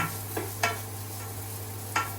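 Onions fry in a pan for vegetable noodles with a steady close sizzle, broken by a few scraping stirs, and no voices.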